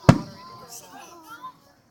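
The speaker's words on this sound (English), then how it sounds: "This is the best fireworks show. That's over the water." A Fourth of July fireworks show over the water near Dolphin Island lets off one sharp, distant-sounding bang, followed by faint voices chatting in the background.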